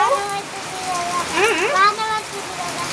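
Rain patters steadily in the background while a voice speaks over it.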